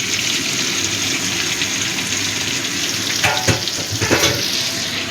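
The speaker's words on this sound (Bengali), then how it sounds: "মাছটা এই 20-25 সেকেন্ড করে এক এক পাশ ভাজবো" Fish frying in a hot pan gives a steady, close, bright sizzle that runs the whole time, with a couple of brief clinks or shifts of the pieces near the end.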